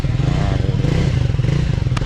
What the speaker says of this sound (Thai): เดี๋ยวมาลองฟังเสียงเครื่องยนต์ดูนะ เครื่องยนต์หนึ่งสูบไทอัพ